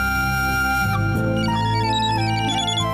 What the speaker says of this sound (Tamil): எனக்கு ஃபோன் வருது.